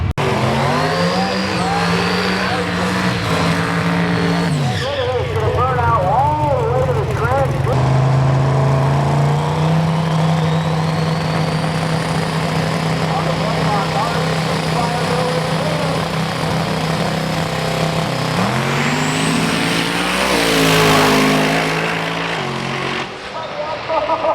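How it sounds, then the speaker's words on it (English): A pro mod drag racing car makes a pass, its engine howling loudly as it revs and winds up through the run, then fading and easing off near the end, with speech mixed in. "Andy's going to make a pass in his pro mod, and Larry's gonna make a pass in his truck."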